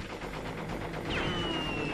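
Rapid bursts of gunfire from the video game Crash Bandicoot 3 Warped, dense and continuous over game music, with a sharp zipping effect near the end.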